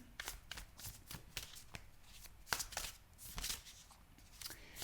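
Tarot cards being shuffled by hand in a series of crisp riffling, flapping bursts that come one after another at close range, with no talking.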